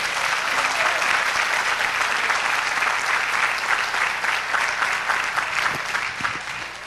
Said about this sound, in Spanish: Vamos a darle un aplauso a Jesús de Nazaret.